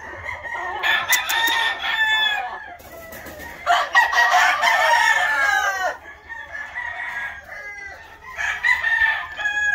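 Stuart Yellow Leg Hatch gamefowl: a rooster crows repeatedly up close, several drawn-out calls in a row, with hens clucking around it and no talk.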